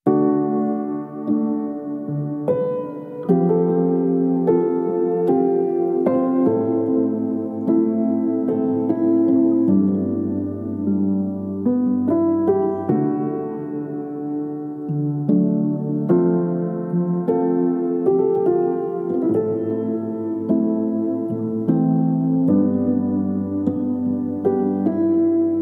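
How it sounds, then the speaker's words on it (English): A soft piano from Spitfire Labs plays a mellow chord progression with a low bass line, chords changing steadily and evenly throughout, gentle and close, with no talking. "which was the soft piano from Spitfire Labs"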